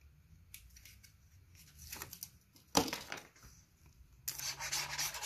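Scissors cutting a piece of paper at close range, with scattered rustling and rubbing snips, one sharp crisp cut near the middle and a louder, longer run of cutting at the end.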